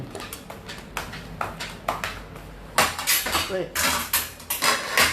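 Clinking of a utensil against a jar and dishes while scooping in a home kitchen during cooking of pork-leg noodle soup, with a series of close, sharp taps and scrapes that grow louder toward the end.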